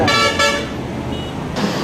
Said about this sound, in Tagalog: Kaliwat kanan, may bumubusina.